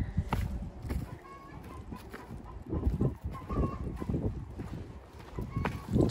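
A farm chicken clucks and squawks in repeated, uneven calls close by, over rustling and outdoor background noise.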